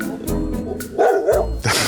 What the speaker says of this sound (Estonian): Ta on küll väga probleemne koer.